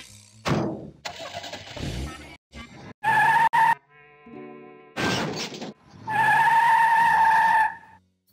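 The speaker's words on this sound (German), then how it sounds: "dann benutzen wir wohl mal unser Fahrzeug" A car in the Sam and Max Hit the Road game starts up and drives off: a revving engine, tire skids and squeals, then a sustained humming drive, loud and close, with short gaps between bursts.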